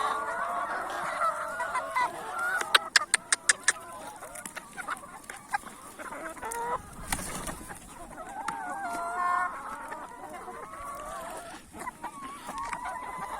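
Excited chickens fed hot pepper, with loud clucking and honking squawks from a nearby flock, some rapid sharp pecking taps, continuing over the whole stretch.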